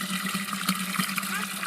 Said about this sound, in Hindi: सोलर से चलता है, कितना ज़्यादा पानी देता है दोस्तों, बेहतरीन